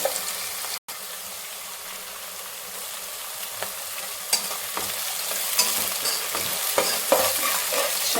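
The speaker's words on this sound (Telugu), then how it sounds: "ఇవి బాగా బ్రౌన్ కలర్ వచ్చేలాగా లైట్ బ్రౌన్ కలర్ వచ్చేలాగా వేయించుకున్నామండి దీనిలో కర్రీ లీక్స్ కూడా వేసుకున్నాము" Curry leaves and other ingredients sizzle in hot oil in a pan for an Andhra fish curry, with a steady frying hiss and occasional scraping, clicking stirs throughout. No voices are heard.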